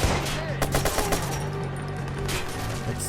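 Gunfire in the video game Watch Dogs, a quick series of close shots at the start, then scattered reports over a background of game music and noise.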